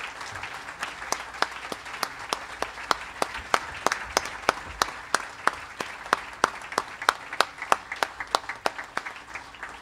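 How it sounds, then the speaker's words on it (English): Audience applause for a new director of athletics at a university press conference, a steady, dense clapping that goes on for about ten seconds, with sharper individual claps standing out near the end. "how about a round of applause for our new director of athletics, Desiree Reed-Francois"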